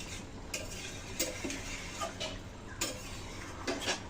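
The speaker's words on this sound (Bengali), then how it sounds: "সুন্দর করে নাড়িয়ে মিশিয়ে নিচ্ছি।" A spoon stirs and scrapes through rohu fish curry in a metal pan, with repeated clinks and scrapes over a steady low simmering hiss, close and moderately loud.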